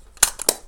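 A titanium-shutter Nikon FM2 film camera fires, giving two quick sharp mechanical clacks about a quarter second apart, close and crisp in an otherwise quiet room.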